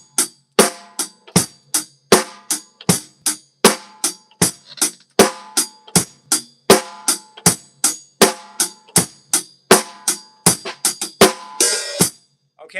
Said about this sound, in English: This is your traditional kind of rock beat, right?